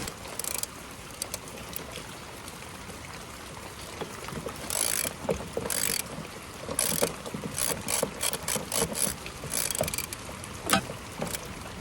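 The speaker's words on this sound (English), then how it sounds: "I'm gonna put a new one on. It was the last lock nut." Mechanical ratcheting and metallic clicks from tightening a lock nut onto a bolt on a Polaris Ranger utility vehicle during repair, with repeated bursts of ratchet clicking over a steady background hiss and no talk.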